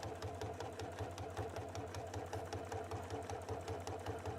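A Baby Lock sewing machine runs steadily while stitching a tote bag seam, a close, even mechanical whir with a fast regular needle pulse and faint motor hum throughout.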